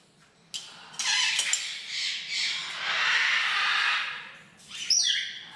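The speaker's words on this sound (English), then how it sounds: "So this is our African gray room." African grey parrots squawk and screech in an indoor aviary room, a loud, harsh run of calls with a brief pause and a sharp final burst, heard close and without talk.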